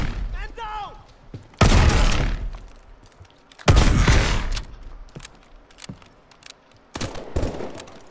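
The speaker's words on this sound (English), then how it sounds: "Now if I can fire the dubstep gun." A dubstep gun fired in Call of Duty: Advanced Warfare, giving three loud bursts of booming, distorted fire several seconds apart, with a short chirping effect at the start and smaller thumps between.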